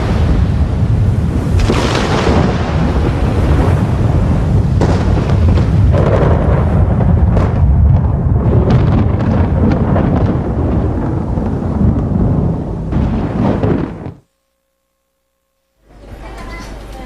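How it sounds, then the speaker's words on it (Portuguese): A lightning strike is followed by thunder, a loud, long rumbling crash that rolls on for many seconds and then cuts to silence before a fresh burst starts. "Um raio foi criado."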